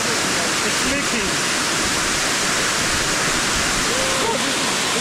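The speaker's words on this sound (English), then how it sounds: "But now this pipe is meant to release pressure of water. But now it's leaking." Water gushing from a leaking pressure-release pipe by a man-made waterfall at Silwane Nature Reserve, Bulawayo: a loud, constant roar of rushing water with faint voices buried beneath it.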